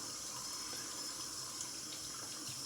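Cold tap water runs steadily from a faucet into a sink while rinsing a freshly shaved face, a continuous even hiss with no voice over it.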